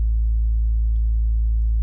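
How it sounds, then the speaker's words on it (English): A steady generated sine wave tone, a single pure fundamental note used for a saturation test, holds evenly and loud for the whole stretch with no other sounds. "So how does that look back with this sine wave we're generating?"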